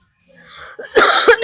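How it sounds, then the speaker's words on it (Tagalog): A single sharp cough, close and loud, following a short muffled throat sound, from a player in the middle of a game of Minecraft Bedwars. "Inuubo ako, excuse me."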